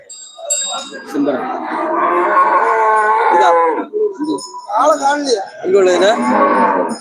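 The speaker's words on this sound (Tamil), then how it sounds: "எங்க மாடு எப்படி சத்தம் போடுது" A cow at the Melapalayam cattle market moos loudly and close by, one long drawn-out call followed by a couple of shorter lowing moos.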